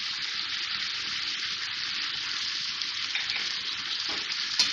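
Chicken pieces frying with garlic-ginger paste in a hot pan, a dense, steady hiss of sizzling oil heard up close and continuous, with faint stirring.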